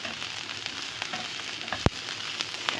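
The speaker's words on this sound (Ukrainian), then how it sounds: "Цибулька наша підсмажилась і зараз я додаю е, печериці і будуть готуватися майже до готовності" Button mushrooms sizzle in a pan over sautéed onion, giving a steady close frying hiss with small pops and one sharp knock of a utensil against the pan.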